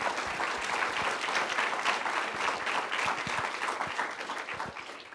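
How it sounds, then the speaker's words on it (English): A lecture audience gives a round of applause for the sponsors of an immunization talk, a continuous patter of many hands at moderate volume with a few heavier nearby claps, easing slightly at the end. "Please join me with a round of applause to thank our sponsors"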